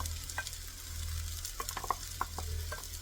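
Papaya upperi with crushed coconut stir-fried in a pan, a steady soft sizzle under a low hum, broken by scattered spatula taps and scrapes against the pan.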